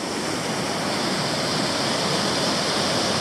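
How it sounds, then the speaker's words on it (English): Evercreech Falls, a waterfall on a creek in Tasmania, roars as a steady, loud and broad rush of falling water, close by and unbroken, with no voices. "the actual Evercreech Falls is in fact this waterfall"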